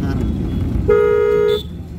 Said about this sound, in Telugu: హారన్